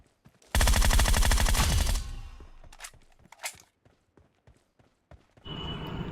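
An MG3 machine gun in BGMI fires a dense, loud burst of rapid shots lasting about a second and a half, followed by a few scattered single reports and a final short rattle.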